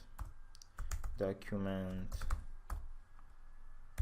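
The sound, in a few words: typing on a computer keyboard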